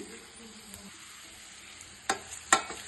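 Cut pieces of cooked idli drop into a hot pan with oil for masala idli, a steady soft sizzle under two sharp clattering hits near the end.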